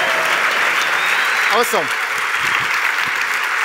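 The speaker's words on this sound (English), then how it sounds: "Give them a round of applause." An audience claps for actors taking a bow at a live event, a steady wash of applause with a person speaking briefly over it.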